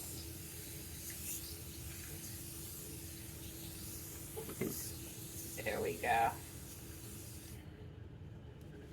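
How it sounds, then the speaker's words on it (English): An automatic spray bottle mists water onto a parasisal straw fedora, a steady soft hiss under a steam-like background, with a short spoken remark near the end. "spray bottle. It gives a nice fine mist."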